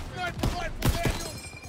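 A few sharp gunshots in the Call of Duty: WWII campaign, spaced irregularly and mixed with a voice talking.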